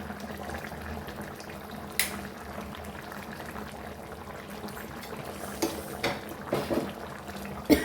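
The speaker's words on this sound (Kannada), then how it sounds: "ಏನು ಕುದೀತಾ ಇದೆ ಕೊತ ಕೊತ ಕೊತ ಕೊತ ಅಂತ" Gongura chicken curry bubbling steadily in a pot, a soft continuous simmer with occasional sharper pops and plops, close and fairly quiet.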